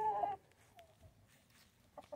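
A chicken gives a short clucking call, followed by a few faint, quieter clucks in a quiet setting.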